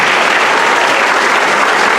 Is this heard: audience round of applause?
yes